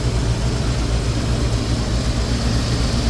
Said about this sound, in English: Motor sounds good. Sounds like it's running on all 8 cylinders.